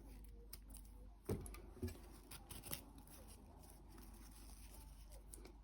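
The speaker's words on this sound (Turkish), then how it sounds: "Ve ipimin ucunu buradan kesiyorum." Scissors snipping the end of yarn for a crocheted hexagon-motif bag, two or three crisp close clicks of the blades over a very quiet background.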